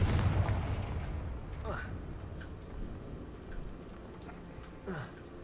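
The Confringo explosive spell in the video game Hogwarts Legacy lands as a heavy, rumbling blast at the start, then fades into a low roar with scattered crackles and small bursts.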